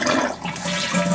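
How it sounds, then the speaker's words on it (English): A toilet flushes close by: a brief, loud, steady rush of water that fills the whole moment, with no voices. "The toilet is working, and I can flush it."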